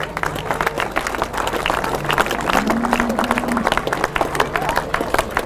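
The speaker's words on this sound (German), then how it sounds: "Herzlichen Applaus!" Audience applause at a cattle show in Grabs: steady, dense clapping fills the whole stretch, with a crowd murmuring underneath and a loudspeaker voice faintly present.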